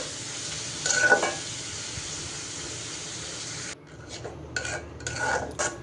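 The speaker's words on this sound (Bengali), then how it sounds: "পেঁয়াজটা ভেজে এরপর তো মশলা দিয়ে এখন মশলাটা কষিয়ে নিচ্ছি" Spices and onion being stirred and fried in a pan, a steady hissing sizzle with scraping utensil strokes against the pan, the sizzle dropping away midway and then returning in short bursts.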